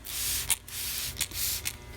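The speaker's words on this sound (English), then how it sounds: "Just spray it on." A spray bottle squirts a 1:20 no-rinse detailing solution onto an aircraft's painted surface, a close, hissing wash with several short trigger bursts over a few seconds.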